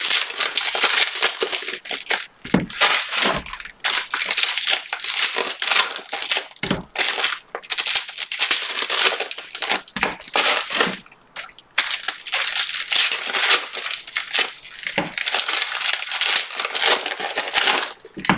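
Paper packing is crumpled and crinkled continuously and close up while a hobby box of football trading cards is opened, with dense, uneven crackling and a few short pauses.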